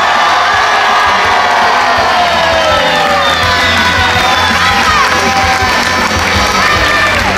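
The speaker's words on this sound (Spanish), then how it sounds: "Lo primero que tenemos que hacer es darle la ovación que se merece a Dani Carvajal." A crowd at a tribute event in Leganés gives a loud, sustained ovation, with cheering, whoops and shouts blending into a continuous roar.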